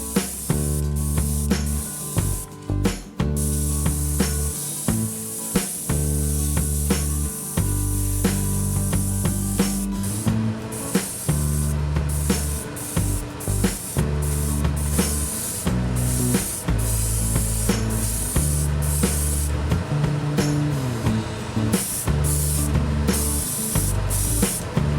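Airbrush spraying a coat of opaque white paint onto a wobbler crankbait fishing lure, close, steady hissing bursts broken by brief pauses throughout.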